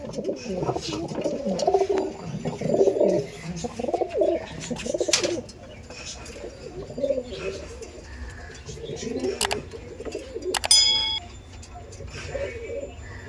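Male and female pigeons kept by a pigeon-racing hobbyist coo in low, throaty repeated bursts, close by, with someone talking over them and a brief electronic beep near the end.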